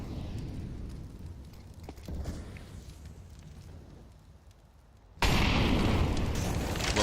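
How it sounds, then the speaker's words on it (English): Incendiary grenade detonating outdoors during a Counter-Strike pro match, a sudden loud whoosh and crackling burst that fills the last couple of seconds after a quieter stretch of ambient game noise. "Well-timed incendiary outdoors, though."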